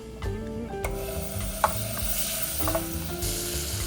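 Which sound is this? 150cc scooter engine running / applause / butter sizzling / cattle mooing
butter sizzling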